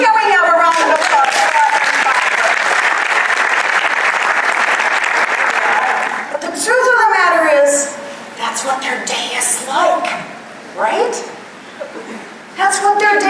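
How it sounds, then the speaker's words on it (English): Loud audience applause fills a keynote talk hall for about six seconds, then breaks off as a speaker's voice returns over scattered lingering claps and some chuckles. "Ladies and gentlemen, can we have a round of applause?"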